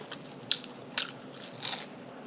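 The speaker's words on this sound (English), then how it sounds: "Get your bite." Breakfast food is bitten and chewed close up, with two sharp crunchy bites followed by a softer crunching chew, all with no one talking.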